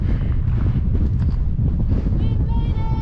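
Strong, steady wind buffets the microphone on a high mountain trail near Chasm Lake in Rocky Mountain National Park, a loud continuous roar that fills the whole clip.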